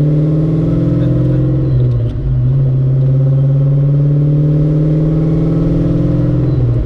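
A 1991 Ford Mustang cruising on a country road, its engine a loud, steady close drone that dips briefly as it shifts up into a cruising gear, then settles back to an even hum.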